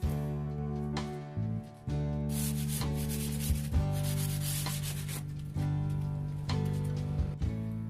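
Sandpaper rubbed by hand across painted wood, repeated scraping strokes in a steady back-and-forth rhythm, close and clear with no talking.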